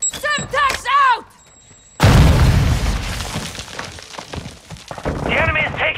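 A Semtex grenade in the video game Modern Warfare 2 goes off with a sudden loud blast and a rumbling, crackling tail that fades over several seconds, after brief shouted game voice lines and with more voice lines near the end.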